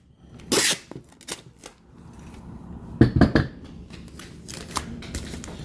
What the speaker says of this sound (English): So I'll throw some more tape here. On the sides.